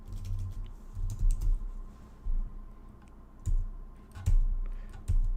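Bursts of clicking keystrokes on a computer keyboard come in short uneven clusters separated by pauses, close and fairly quiet, with no talking.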